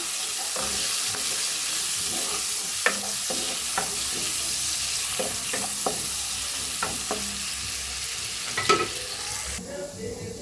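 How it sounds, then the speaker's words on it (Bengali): Onions and panch phoron sizzle in leftover fish-frying oil in a pan for a rui fish curry, a steady hissing fry punctuated by repeated scraping and tapping of a spatula stirring. "এবার ভাজা করে নেব"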